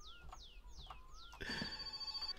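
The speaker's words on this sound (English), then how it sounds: "Oh, the phone's ringing." Telephone in the game My Summer Car ringing with a quick series of chirping, descending trills, then a harsher sustained ring, fairly faint and with no talking over it.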